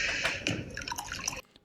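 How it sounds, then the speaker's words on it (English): A drink poured into a glass in a bar, a bright liquid stream with gurgling, dripping splashes that cut off near the end, close and moderately loud. "pouring a glass"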